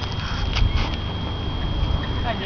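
Horses moving through a riding arena during a carousel display at the Nusifarm stables in Tököl, soft muffled hoofbeats under a steady background rumble.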